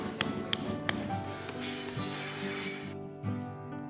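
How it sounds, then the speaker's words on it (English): A hammer drives a branch into a wet wooden log, giving three sharp, evenly spaced knocks close by, then a softer thud after a pause, in a quiet workshop setting. "Hammer that in."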